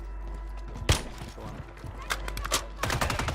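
Gunfire in the shooter Warzone 3, a Reclaimer 18 shotgun, with a sharp nearby blast followed by a few scattered shots and a short burst near the end, mixed with game noise.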